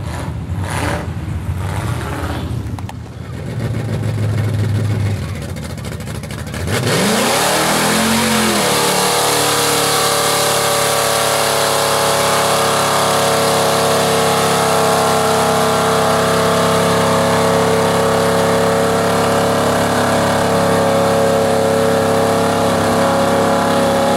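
A mud bog truck engine roars loud and close, revving up hard after a few seconds and then holding a steady, sustained high-rev drone through the rest of the run.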